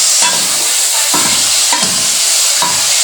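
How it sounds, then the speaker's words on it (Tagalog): Chicken stir-fried with sotanghon glass noodles in a pan: a steady loud sizzle and hiss, broken by four evenly spaced scraping strokes of the spatula. "Haluin lang natin ating manok gisado with sutanghon."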